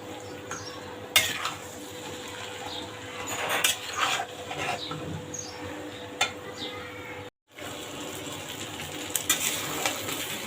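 Vegetable and egg noodles tossed and stirred with spices in a hot pan, a close scraping and clinking of a utensil against the pan over a soft continuous sizzle, with a brief silent gap partway through.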